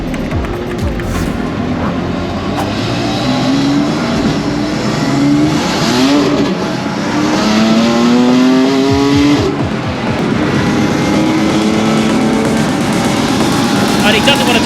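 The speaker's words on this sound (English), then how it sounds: "Alongside the BMW M4 solo driven car" A BMW M4 race car engine howls loudly during a circuit race, rising and falling through revs and gear changes, with other racing engines passing close by and a commentator talking over it throughout.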